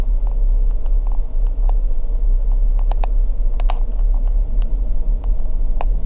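A manual-transmission car pulls away as the clutch is let out, its engine rumbling low and steady close by, with scattered faint clicks and ticks on top and no talk.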